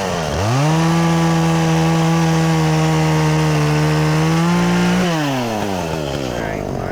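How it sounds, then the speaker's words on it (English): A chainsaw cuts wood in the water while a dock is removed, revving up loudly, holding a steady high whine through the cut, then dropping and revving again, close by. "chainsaw in the water."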